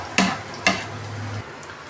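Chopped garlic fries in a pan for Filipino-style chow fan fried rice, giving a low steady sizzle broken by two sharp scraping stirs of a utensil against the pan, close and alone.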